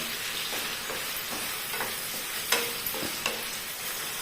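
Brinjal frying and being stirred in a pan over high heat, a steady sizzle broken by several sharp scraping stirs, close and loud with no talking.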